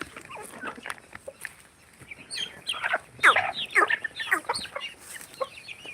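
Desi village chickens on a farm peck at khichdi, giving scattered clucks and chirps with a few louder, closer squawking bursts midway. The fowl vocalize alone with no talk, over faint background noise.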